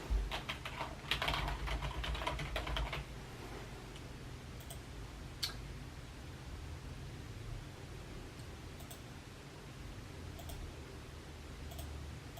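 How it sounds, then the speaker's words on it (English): Rapid typing on a computer keyboard, close and clear, with dense clicking keystrokes for about three seconds, then a few isolated taps over a steady low hum. "I'm gonna type it in real quick."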